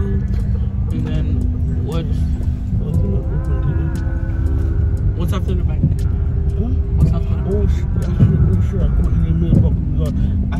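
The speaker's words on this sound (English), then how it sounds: "We are in the car now." Low engine rumble inside a moving car on a winter-break errand run, steady and muffled beneath people talking throughout.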